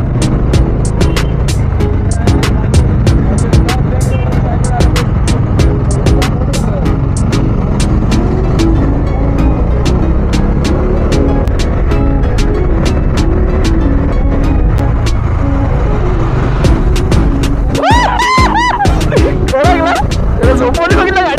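A Bajaj Dominar motorcycle cruises on a weekend ride from Mumbai toward Bhavali waterfall near Nashik, its engine a constant loud drone under heavy wind buffeting, with a rider talking near the end.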